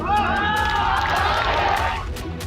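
A large crowd gathered for a Kumar Vishwas poetry event, a dense, loud roar of many voices and cheering filling the short stretch without pause.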